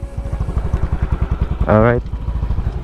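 Several motorcycles idle together at a roadside meeting point in Infanta, Quezon, a steady low engine pulse running throughout with close talk over it and a brief horn-like tone near the end.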